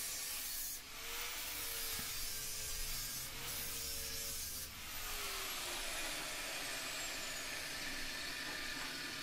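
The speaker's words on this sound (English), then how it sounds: "tidying it up with the flap disc first, and then the sanding disc" A steady, whirring power tool with a sanding disc grinds against a metal shackle, with a faint high whine throughout and brief surges in pitch.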